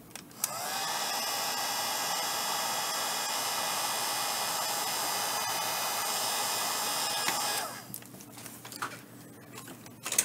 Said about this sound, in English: now you need heat gun, the good old heat gun. This is the Wagner heat gun.